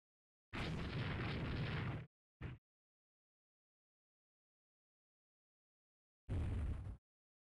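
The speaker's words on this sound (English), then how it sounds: "Guess he got his turret blown up." An explosion blows up a ship's turret in the naval game Rule the Waves 3. There are loud, roaring blasts: a long one near the start, a brief pop after it, and another burst a few seconds later, separated by silence.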